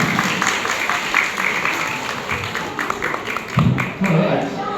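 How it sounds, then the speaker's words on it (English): An audience claps for Brian after he shears a sheep at a shearing demonstration in Perth, Australia. The clapping is steady and moderately loud, mixed with voices talking. "Just give it a clap."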